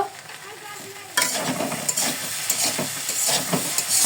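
Food sizzles in a frying pan on low heat: a quiet start, then a steady, close crackle of frying with stirring throughout.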